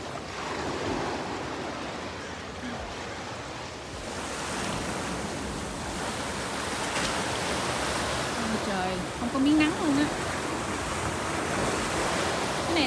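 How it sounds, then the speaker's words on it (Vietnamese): Strong ocean waves breaking at Heisler Park beach in Laguna, a broad continuous roar of surf with wind rushing across the microphone, loud and steady, while a person talks over it. "Ni ni ni ni sóng mạnh kìa."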